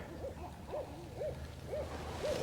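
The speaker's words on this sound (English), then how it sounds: "you can hear those owls over there" Owls at a lake campsite in Kansas give a series of about six soft, evenly spaced hoots from a distance, repeating in a steady rhythm over a low outdoor background.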